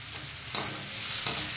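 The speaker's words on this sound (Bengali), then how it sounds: "এরপর এটাকে আমি আর একটু ভেজে নেব" Salted onions sizzle steadily in a pan up close, with two sharp stirring scrapes breaking the continuous hiss and no talking.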